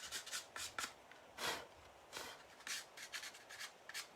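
A handmade clay flower is sanded with soft, irregular rubbing strokes, close but faint, and no one speaks.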